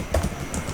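A few quick keystrokes on a computer keyboard while typing in VS Code, soft close clicks in a short burst.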